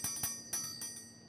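A small hand bell is rung several times at a formal academic ceremony, with bright metallic strikes ringing out over a hushed hall, fairly faint and distant.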